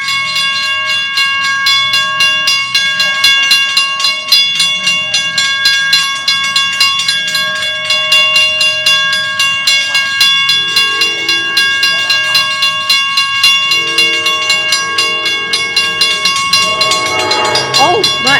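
Two trains pass at once beside a railway station, close and loud, with continuous rhythmic wheel clatter and ringing metallic tones, while brief voices can be heard over the rumble near the end.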